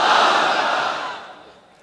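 A large crowd roars a unified takbir chant of Allahu Akbar at an outdoor religious gathering in Madaripur, a dense broad swell of many voices that peaks early and fades out over almost two seconds.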